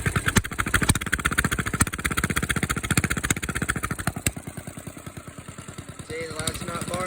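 Engine running after a cold start, blowing black smoke, a loud rapid rhythmic exhaust chug that stays steady, then eases slightly near the end with a brief higher whine.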